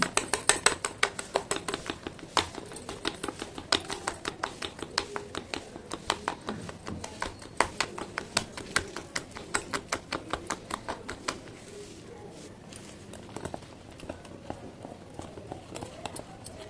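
Cake batter with cardamom powder and baking powder beaten briskly in a bowl, producing rapid, regular clicking taps of a spoon or whisk against the vessel, fairly close and continuous, easing off near the end.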